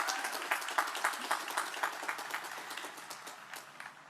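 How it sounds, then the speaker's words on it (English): A crowd at a college commencement ceremony applauds, a dense wash of many hands clapping from a distance that fades gradually over a few seconds. "Another round of applause for Truman."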